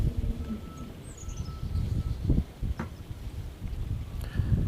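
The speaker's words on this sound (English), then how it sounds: "Got a north wind blowing me up lake." A north wind blows over a lake, a steady low rumble of gusts buffeting the microphone with faint rustling and occasional soft knocks throughout.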